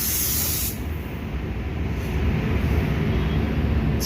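A spray gun applies clear varnish to a car bumper, a loud, steady, close hiss that starts abruptly and continues without a break.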